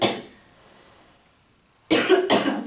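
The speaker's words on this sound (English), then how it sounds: "I'm sorry, I have a cough." A person with a cough coughs twice in quick succession, close and sharp, after a brief moment of quiet with faint room noise.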